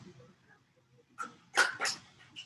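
Pet dogs in a home kitchen let out a few short yips and barks near the end after a quiet stretch, close and fairly soft.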